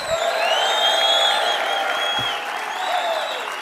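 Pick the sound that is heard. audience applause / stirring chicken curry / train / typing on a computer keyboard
audience applause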